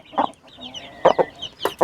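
A hen clucks nearby in a few short, separate bursts with brief quiet gaps between them, heard alone without talking.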